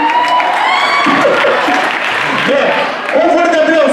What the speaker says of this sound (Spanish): reciban con un fuerte aplauso a ellas